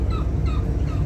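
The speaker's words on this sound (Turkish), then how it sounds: "Şu martı ötüyor." Seagulls call near the Maiden's Tower in Istanbul, with a few brief rising cries over a steady low rumble of wind and boat noise.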